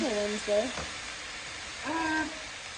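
Pork pieces browning in a cast iron pan for pozole, a steady close sizzle running throughout, with a voice talking briefly near the start and again toward the end.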